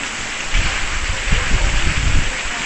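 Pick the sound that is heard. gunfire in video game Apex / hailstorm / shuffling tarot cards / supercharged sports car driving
hailstorm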